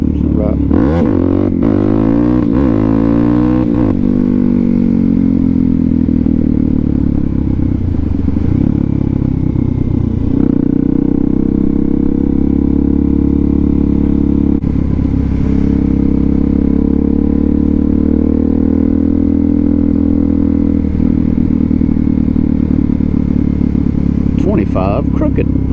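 Suzuki DRZ400SM motorcycle with an FCR39 carburetor ridden through snow, its engine droning loudly and continuously close up with rising and falling revs, wind buffeting and a rider's voice over it.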